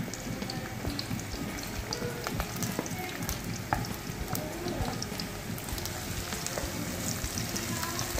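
Garlic frying in a pan for Ilocano-style pancit bihon gives a steady, dense crackling sizzle throughout, close and even, with occasional faint clicks.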